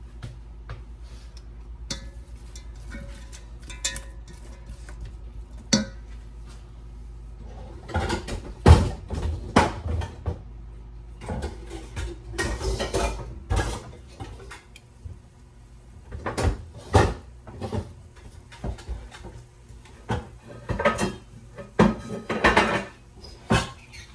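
Metal pots and pans clatter and bang as they are pulled out of kitchen cupboards, giving irregular bursts of clanks and knocks. Cupboard doors thump now and then, loud and close, with no talking.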